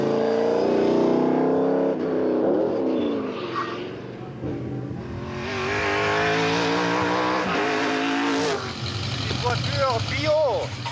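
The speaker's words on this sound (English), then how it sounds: "An electrical powered Ferrari." Electric-powered Ferrari race car at the Tour Auto 2009, its motor whining and shifting in pitch as it drives, fairly loud and close, with a narrator talking over much of it.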